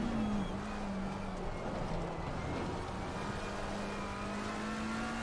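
McLaren 720S EVO racing at Bathurst (Mount Panorama) in Assetto Corsa Competizione, a steady droning engine note holding a fairly even pitch with slight rises and dips throughout.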